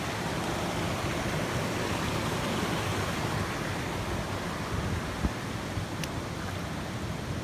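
Steady broadband rush of flowing creek water at Trace Creek in Waverly, Tennessee, a constant close wash with no talking.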